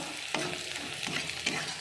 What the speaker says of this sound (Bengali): লঙ্কা, রসুন, পেঁয়াজটা আমার ভাজা হয়ে গেছে